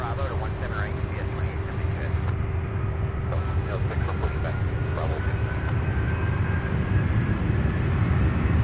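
A UPS Airbus A300 jet bound for San Juan, Puerto Rico, roars steadily at Louisville International Airport, a loud, continuous broadband engine rumble with a faint tonal whine that holds through the whole clip.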